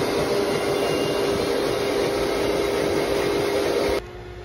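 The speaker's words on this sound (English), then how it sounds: "Then vacuum it all up." A vacuum cleaner running on a car's carpet, a loud steady whooshing drone held close for several seconds before it suddenly drops off near the end.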